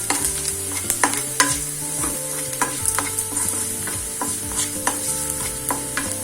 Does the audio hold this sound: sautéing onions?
yes